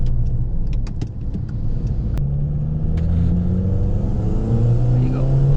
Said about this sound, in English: You can just hear the turbo spool, you can hear the exhaust.